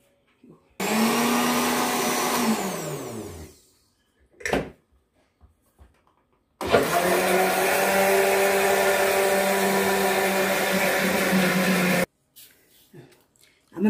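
An electric mixer beats chocolate cake batter of cocoa, oil, milk and sugar, whirring steadily in two long bursts with a pitch that drops as it winds down, separated by short gaps with light handling knocks.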